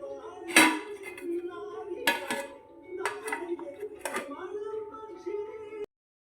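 A metal lid is set onto a pot of Kerala-style roasted-coconut chicken curry, giving several sharp clanks and rattles at close range over a low background hum.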